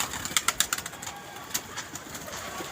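Pigeons at a pigeon club, a few soft coos and wing flutters with brief sharp clicks near the start, fairly faint and close, no talking.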